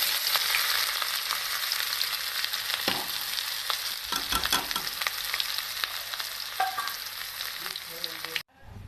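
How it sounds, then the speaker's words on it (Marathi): Cumin seeds, green chili, onion and garlic fry in hot oil in a home kitchen, a close crackling sizzle with scattered spoon clinks and stirring knocks before it abruptly cuts off near the end. "चला आता ह्या आपण टाकतोय जिरं आता टाकायचं हिरवी मिरची कांदा लसण"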